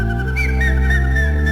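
Bright whistle tones ride over steady, full music with a deep bass layer, the whistling clear and sustained through the passage.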